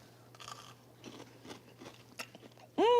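Crispy baked avocado fries, just out of the oven, are chewed with quiet, irregular crunches over a steady low hum, and a short vocal sound comes at the end.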